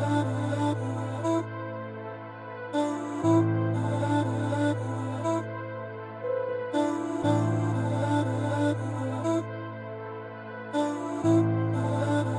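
Final dark music sample with a pitch-shifting effect on the master, a slow sustained chord progression with a low bass and bright, chopped high layers that cut in and out in a repeating pattern, no voices.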